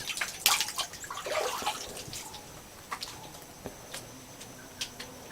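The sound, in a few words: spring water streaming into a waterfall and pool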